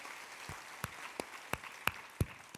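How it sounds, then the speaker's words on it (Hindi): A small gathering at a spiritual talk claps sparsely, with a handful of distinct, separated claps spread irregularly over a couple of seconds, fairly close and alone without talk. "ताली बजाओ,"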